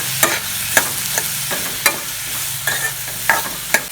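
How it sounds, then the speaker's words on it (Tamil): Spatula scraping and stirring in a pan as turmeric and salt are sautéed with pirandai for a tamarind kuzhambu, with sharp clinks and scrapes at an uneven rhythm over a low steady sizzle, close and moderately loud, no talking. "கொஞ்சம் உப்பு போட்டு வதக்கிக்கலாம்ப்பா"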